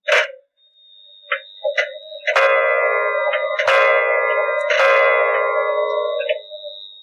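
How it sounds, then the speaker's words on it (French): An old clock, found at the back of a wardrobe and wound up, strikes a few resonant, ringing chimes that overlap and sustain, with a few small clicks before them. It sounds close and clear, with no talking. "s'aperçut qu'elle sonnait fort bien et marchait encore"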